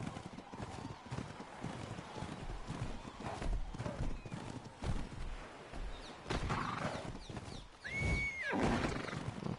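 A horse in Ark Survival Ascended gallops with steady, rhythmic hoofbeats and snorting, and a brief whinny-like cry near the end, all fairly quiet and mixed with game ambience.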